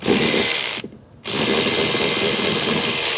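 A 1/4-inch drive ratchet on a swivel loosens a bolt on a 2010 Camaro, giving a loud, close, continuous fast clicking that pauses briefly near the start and then runs steadily on.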